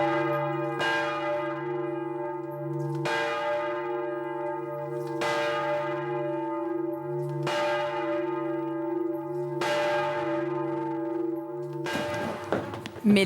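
Church bells of Notre-Dame ring in slow, even strikes about every two seconds, each ringing out with a long humming decay, fairly distant and alone.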